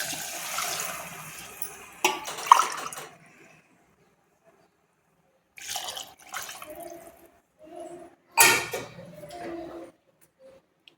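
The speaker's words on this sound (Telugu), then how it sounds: "గ్లాసున్నర బియ్యానికి 2 గ్లాసుల వాటర్." Water is poured into a pot of rice in bursts, a close gushing and splashing that stops and restarts several times with short silent gaps between pours.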